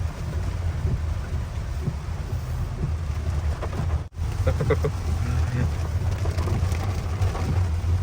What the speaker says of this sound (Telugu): వాన ఏమీ తగ్గలేదు రోడ్డు కనబడకుండా అంత ఉంది వర్షము